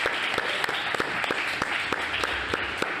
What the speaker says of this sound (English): can we all please give James a huge round of applause for getting up here?